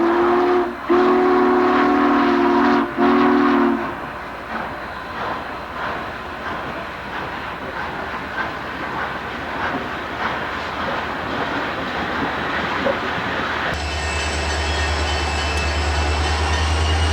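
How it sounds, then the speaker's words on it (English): Model train crawling through a layout near a small freight yard, opening with loud repeated whistle blasts, then a steady rumbling, clattering run, ending in a low hum and higher tone. "just to watch a train crawl through here"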